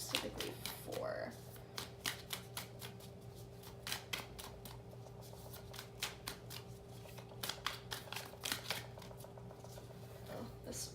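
Tarot cards shuffled by hand, producing quick riffling bursts and soft papery slaps in an irregular rhythm, close and fairly quiet over a steady low electrical hum.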